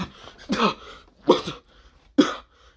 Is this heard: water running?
no